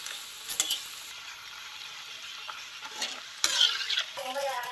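Chillies sizzle and fry in a hot pan, a steady faint crackle with a few sharper spatters and stirring clinks.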